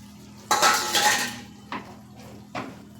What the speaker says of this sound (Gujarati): પનીર એડ કરી અને આપણે બરાબર મિક્સ કરી લેશું